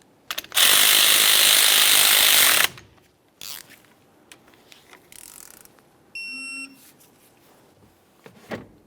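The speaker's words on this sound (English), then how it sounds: "Snug up the banjo bolt and torque it to 125 inch-pounds." Ratchet wrench snugging a brake caliper banjo bolt on a 2005-2010 Dodge Dakota, a loud close burst of rapid clicking followed by scattered metallic taps, clinks and a short electronic beep.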